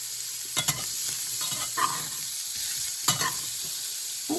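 Hot dog pieces browning in a frying pan, with a steady close sizzle and a few soft scrapes and taps from stirring, no voices.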